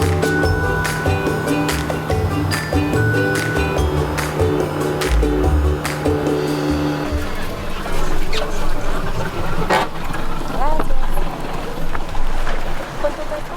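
A motorboat engine on Lake Atitlán, Guatemala, drones steadily with water noise, a low hum under occasional voices, shifting midway as the boat slows and splashing grows.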